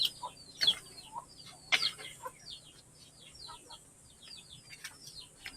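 A native chicken clucks repeatedly in short, fairly close bursts in an outdoor rural setting, with a few sharper calls standing out and faint background hum throughout.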